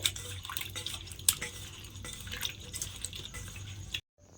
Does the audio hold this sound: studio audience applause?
no